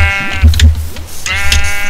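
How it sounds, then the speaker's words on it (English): Two harmonic sheep bleats from a Minecraft sheep, one early and one late, heard over a steady low game-world hum during stormy in-game weather. "Ooh, a brown sheep."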